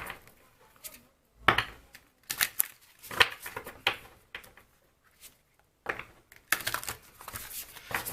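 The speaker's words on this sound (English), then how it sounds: "I went quiet because I was trying to shuffle these cards" Large tarot cards are shuffled by hand in a quiet room, giving irregular bursts of papery riffling and slapping separated by short pauses.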